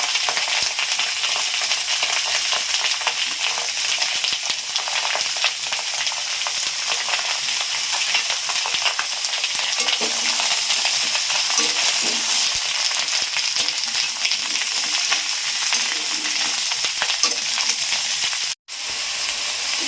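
Slit green chilies frying in a hot pan for a Bengali bottle gourd and crab dish, a loud, steady sizzle and crackle that runs on without pause, ending with a brief cut.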